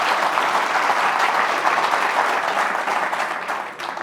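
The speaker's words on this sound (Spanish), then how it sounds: "Aplauso espontáneo recibe" Spontaneous applause from a crowd, loud, dense clapping that runs steadily and thins slightly near the end.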